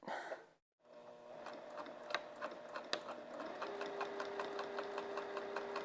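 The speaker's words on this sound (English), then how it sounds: "let's sew this down" Sewing machine stitching along the edge of a fabric piece, a quick regular mechanical chatter with a steady motor hum underneath, starting after a brief pause and running on, close and fairly quiet.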